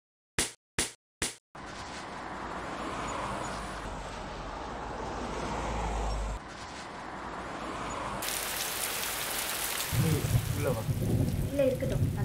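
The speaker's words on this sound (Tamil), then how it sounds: "மழை இப்படி பெஞ்சிக்கிட்டு இருக்கு." Steady heavy rain pours down continuously, a dense close hiss with a few sharp taps at the start and a shift to a louder, rougher downpour near the end; no one speaks.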